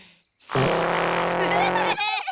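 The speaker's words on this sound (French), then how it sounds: "Et celui-ci, c'est le cacophone à roulette." A cartoon musical instrument called a roller cacophone, from the animated series Ben and Holly's Little Kingdom, gives one loud, sustained, buzzy, raspy blare that holds steady for over a second before breaking into a short sputter.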